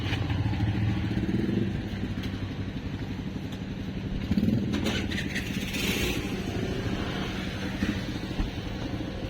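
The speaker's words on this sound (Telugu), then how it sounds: "సో బైక్ అయితే తీస్తున్నాం మనం ఇప్పుడు" An R15M motorcycle engine rumbles steadily up close, idling with slight revs and some mechanical clatter.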